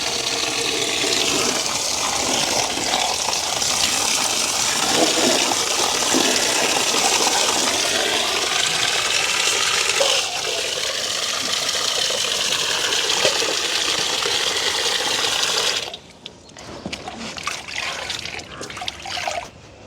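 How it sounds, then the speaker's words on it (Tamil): Water running and splashing as mixed leafy greens, amaranth and ponnanganni leaves, are washed by hand in a village kitchen; a steady close trickle and gush continues for about sixteen seconds, then drops to quieter dripping and handling. "எல்லா இலை வகைகளையும் கழுவி எடுப்போம்"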